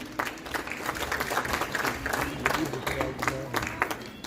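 Audience applause during a musical play staged before dignitaries, a moderately quiet crowd clapping in an uneven patter throughout, with a voice talking over it.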